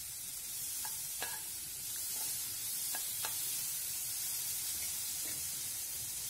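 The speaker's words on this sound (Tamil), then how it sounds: "பச்சை மிளகாய் வதமிளகாயும் சேர்த்து வதக்கணும்" Green and dried red chillies sautéing in a pan, a faint steady sizzling hiss punctuated by a few soft spatula taps and scrapes, quiet and close.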